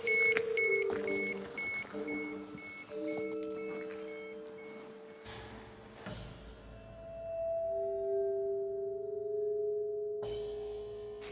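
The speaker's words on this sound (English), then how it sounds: "These are happy beeps." Electronic beeps and steady sine tones overlap in a repeating pattern, with a couple of sharp clanks and a low hum beneath, inside the Chernobyl reactor.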